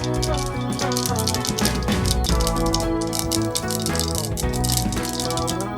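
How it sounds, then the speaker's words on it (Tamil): Mustard seeds spluttering in hot oil while cooking a roasted-coconut mochai puli kuzhambu, a dense, continuous crackling and popping with steady tones in the background. "இப்போதான் கடுகு லைட்டாக பொரிய ஆரம்பிச்சிருக்கு"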